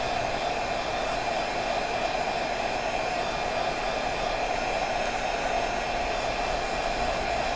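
A heat tool warming a WoodUBend moulding blows a loud, constant airy roar with an even hiss, running alone without any pause or talk.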